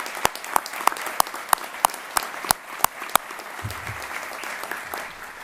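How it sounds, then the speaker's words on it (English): Applause from a commencement audience honoring finance graduates: sparse, distinct claps ring out at a steady rhythm, then thin into a faint patter with a low rumble near the end. "So join me in giving applause to these students."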